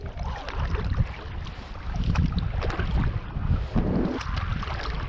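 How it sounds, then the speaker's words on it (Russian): Steady wind buffets the microphone throughout, a continuous rumbling roar with gusty surges and faint rustling. "Надо ждать, пока утихнет ветер."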